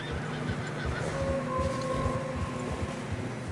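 A horse in the video game Red Dead Redemption 2 whinnies in a long, wavering neigh over a steady bed of wind and rumbling background noise on a snowy trail, moderately loud.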